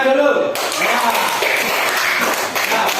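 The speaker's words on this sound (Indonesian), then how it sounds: "Kelompok 1 kasih tepuk tangannya dulu." A classroom group claps for Group 1, a burst of scattered applause that starts abruptly and continues under a speaking voice.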